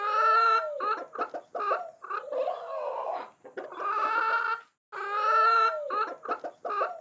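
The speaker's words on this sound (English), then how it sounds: "Hen." A hen clucks and cackles in a near, loud run of calls, with brief pauses between bursts and no other sound around.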